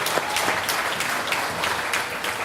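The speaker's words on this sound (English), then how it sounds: "I heard a clap there. Let's clap on that one too." A crowd claps steadily at a community celebration event, dense overlapping hand claps at a constant level throughout with no talk.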